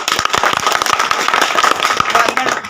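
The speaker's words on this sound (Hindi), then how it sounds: "एक बार ताली बजा दीजिए उनके लिए" An audience at a political gathering claps to welcome back a returning party member. The applause is dense, loud and close, with many sharp hand claps merging into steady crackling clapping that lasts the whole moment.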